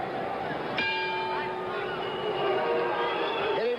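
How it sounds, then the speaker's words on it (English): A boxing ring bell rings out sharply to end the sixth round of a 1977 bout between Everaldo Azevedo and Carlos Palomino, its tone ringing on over the arena crowd's hubbub and a commentator's voice. "Hitting at the bell, Azevedo gets in his final licks"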